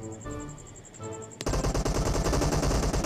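PUBG Mobile gameplay: a few sparse clicks and tones, then a sudden burst of rapid, loud automatic gunfire in tight repeated shots lasting to the end.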